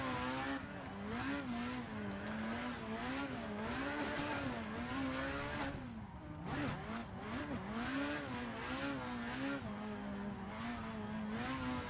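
A race car engine revs continuously in a racing simulator, a loud, wavering whine rising and falling with gear changes and throttle, briefly dipping before climbing again, with no talk over it.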